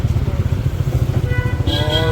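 A parked scooter's engine idles close by with a steady low putter, and a voice talks over it.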